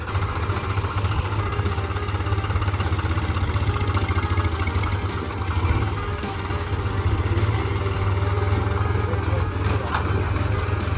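Steady loud engine drone of a New Holland tractor driving fast on a farm during millet sowing, with continuous mechanical clatter throughout.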